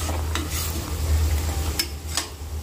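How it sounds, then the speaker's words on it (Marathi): Ground masala paste sautéing in oil for a Holi festival meal, a steady low sizzle with scraping stirs and a few bright utensil clinks against the pan, close and fairly continuous. "तर हा सर्व काही वाटणाचा मसाला तेलामध्ये छान परतला आहे"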